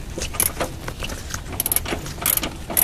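A ratchet with a 17 mm deep socket works a mount bolt loose on a 2000–2005 Honda Civic, making quick irregular clicking bursts and metallic rattles up close.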